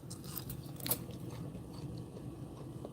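Loud crisp crunch of a bite into a Parmesan-crusted chicken breast, a sharp burst near the start followed by softer close chewing and crackling, no talking over it.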